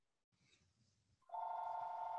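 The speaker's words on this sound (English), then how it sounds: "The phone's ringing" A telephone rings during a live stage play, its bright electronic tone rising sharply and holding steady and loud after a softer stretch of murmured voices.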